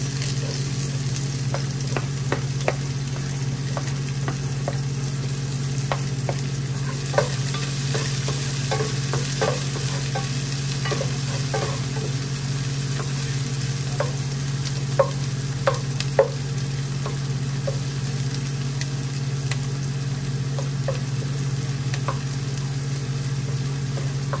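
Onion frying in a pan for sarciadong, with a steady sizzle under repeated scrapes and clinks of a utensil stirring, close and continuous.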